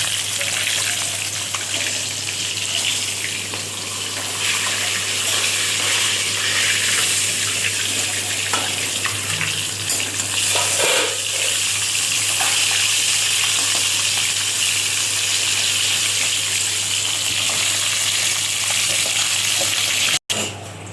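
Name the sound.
cauliflower frying in oil in a pan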